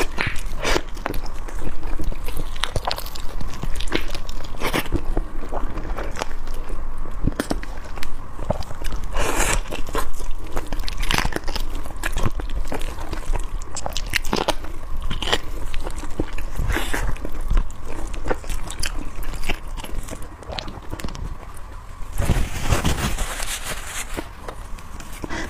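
Roasted pork trotter with bones being bitten and chewed up close, with steady wet crunching and gnawing that continues throughout, plus a few sharper bites and a louder crunchy burst near the end.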